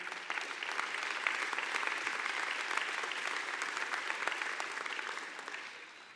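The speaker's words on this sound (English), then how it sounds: "How about another applause for that?" A crowd applauds at the opening ceremony of a transit center, dense sustained clapping that holds steady for several seconds before easing slightly at the end, heard at a moderate distance.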